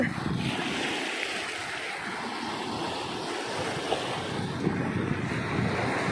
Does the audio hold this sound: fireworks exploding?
no